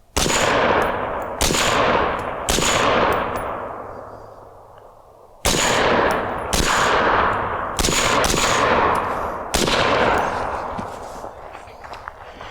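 Seven suppressed gunshots from a 16-inch 5.56 AR rifle fitted with a Dead Air Sandman suppressor, sharp loud cracks spaced about a second or two apart, each with a short decaying echo outdoors.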